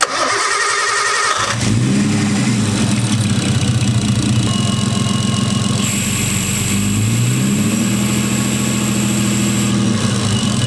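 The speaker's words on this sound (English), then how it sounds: "You can hear it doing like a whistle. It's causing the motor to run weird, and it's a boost leak" Nissan RB20 engine cranks and catches, then settles into a loud, steady idle with a sustained high whistle from a boost leak at the throttle body sitting over the running engine.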